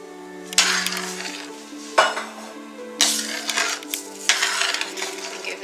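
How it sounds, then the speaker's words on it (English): A spoon stirs Mexican rice with tomato sauce in a pot, giving several distinct scraping clanks against the metal over a steady soft sizzle, close and clear with no talking. "Give this a good stir, mixing everything together."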